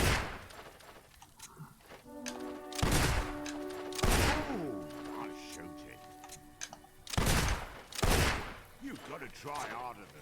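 Gunshots in a shooting-gallery round of the video game Fable 2, several sharp cracks spaced a second or two apart, mixed with game tones and someone talking between shots.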